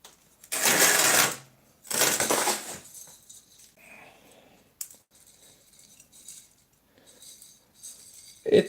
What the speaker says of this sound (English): let's put some substrate back